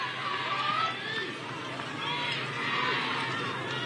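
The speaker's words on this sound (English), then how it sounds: "now you hear the Big Red crowd chanting for Big Red" The Steubenville Big Red crowd at a football game at Columbus Crew Stadium chants in swelling waves, a distant, diffuse roar of voices with steady background hubbub.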